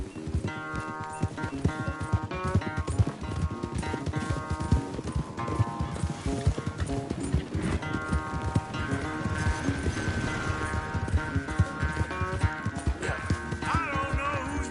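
Horses gallop in a race in the Red Dead Redemption 2 video game, their hooves drumming in a steady, rapid clip-clop under a musical score, with a neigh partway through.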